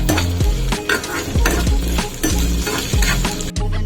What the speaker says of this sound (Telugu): వేసుకున్నాం కదండి, ఇవి కొంచెం బాగా వేగనివ్వాలి.